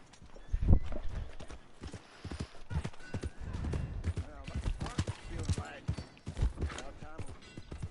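Rapid hooves clip-clop continuously under overlapping game speech and background sound effects, loud and close.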